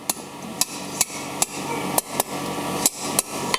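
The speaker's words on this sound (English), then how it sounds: "by changing the angle of my left hand, as well as the angle of attack from my hammer, I can scroll that up nice and tight" A blacksmith hammers a steel bar into a scroll on an anvil, producing about nine sharp, ringing metallic strikes at an uneven rhythm, close and loud.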